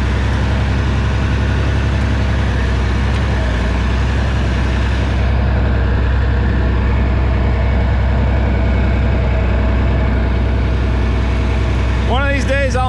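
Oliver tractor engine with an over-under transmission running steadily as it drives, a loud, continuous low rumble heard close up throughout.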